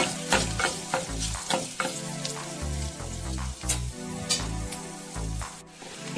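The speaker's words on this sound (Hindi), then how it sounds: "इन्नु ओंदु निमिष फ्राई माड्ता इद्दीनि" Steady crackling sizzle of mushroom gravy frying in a pan, loud and close, with sharp pops and occasional scraping stirs throughout.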